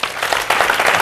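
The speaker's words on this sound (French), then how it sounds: "on va encore l'applaudir très fort" Studio audience clapping on a youth talk show, a short, fairly loud burst of many hands with a rise in intensity halfway through, heard without any talking.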